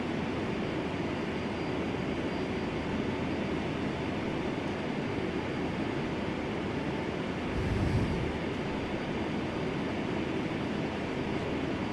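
A QualityWings 757-200 airliner taxiing in Flight Simulator, with a steady, even engine roar throughout and a brief low thump near the end.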